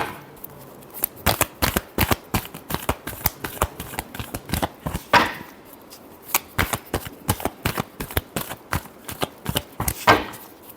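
Tarot cards being shuffled by hand in a love reading, a long run of rapid, crisp riffling bursts, close and loud, repeating in quick rhythmic clusters with a few heavier slaps.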